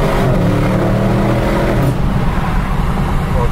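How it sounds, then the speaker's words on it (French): Audi RS6 on its stock factory exhaust, engine droning loud and close at steady revs, a thick low rumble that fades slightly toward the end while someone talks over it. "et là on est sur un échappement d'origine voilà,"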